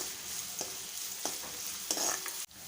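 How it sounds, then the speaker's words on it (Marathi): Finely chopped onion softening in hot oil in a pan, a steady quiet sizzle broken by a few soft scraping stirs of a spoon. "कांदा आपल्याला तेलामध्ये छान मऊ करून घ्यायचा आहे।"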